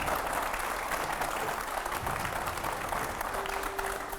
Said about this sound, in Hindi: जोरदार तालियों से एक बार फिर से स्वागत करिए